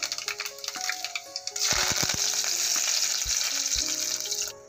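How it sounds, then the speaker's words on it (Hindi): Mustard seeds, cumin, fenugreek and curry leaves hit hot oil for a fish curry tempering, bursting into a loud, steady sizzle after a few clinks and crackles, continuing close up without talk. "अभी डालूंगी राई, जीरा, मेथी दाना, ये बघार के लिए,"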